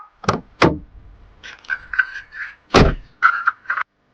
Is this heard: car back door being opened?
yes